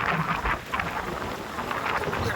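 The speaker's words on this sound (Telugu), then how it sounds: "చాలా వర్షం ఉంది ఇక్కడ బొంబాయిలోన" Heavy monsoon rain pours down among close-set buildings in Bombay, a loud continuous roar with rumbling undertones, no voices.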